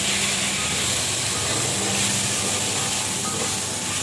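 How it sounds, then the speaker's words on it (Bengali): Potato pieces frying in oil with salt and turmeric, a loud, close, unbroken hiss that holds steady with no pauses and no talk. "এই যে দেখুন, এখন আলুটাকে ভাজছি একটু ভালোভাবে।"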